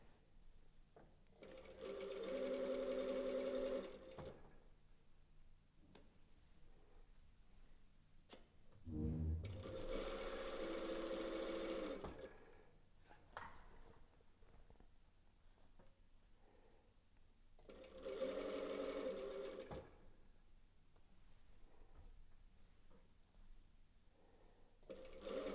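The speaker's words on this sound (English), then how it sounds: "just keep sewing" A sewing machine stitching a hem, heard in three separate bursts of rapid mechanical whirring and clatter, each lasting a few seconds, with faint quiet gaps between them.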